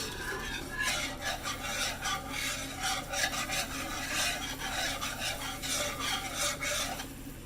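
Spoon stirring a boiling chocolate mixture in a pot, a steady scraping and rasping rhythm with bubbling underneath, close and continuous with no talking.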